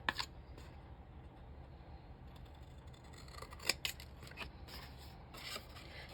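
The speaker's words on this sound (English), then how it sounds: "let's cut that one out" Scissors cutting a butterfly shape out of paper for a junk journal, close quiet snips and crisp cuts spaced irregularly over a low background hum, no talking.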